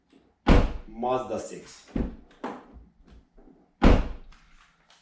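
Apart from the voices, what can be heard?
car doors closing on a 2012-2019 VW Passat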